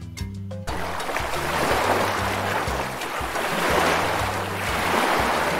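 Sea waves roll and wash in a continuous broadband surf roar that swells and eases, with a soft repeating musical melody beneath and a brief chime at the start.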